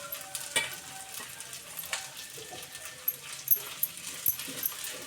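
Chili and ginger stir-frying in a hot pan, with a steady, close sizzle and irregular scraping and stirring clatter throughout.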